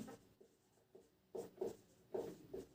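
Maths solution being written by hand on paper, a quiet series of short pen or pencil scratches in irregular bursts, close up with no talk.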